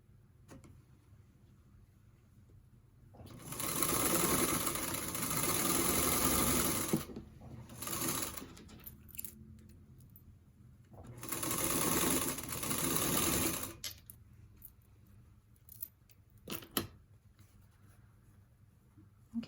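Sewing machine stitching a quarter-inch quilt seam in two loud bursts of steady running, each a few seconds long, with a pause and light handling noises between and after.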